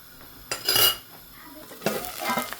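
Onions cooking in a pan with a bit of salt and oil, heard as two bursts of utensil scraping and clatter against the pan over a soft sizzle, close up, with no voices.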